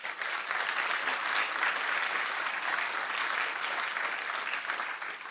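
A crowd at a press conference applauds steadily for several seconds, a dense even patter of clapping hands.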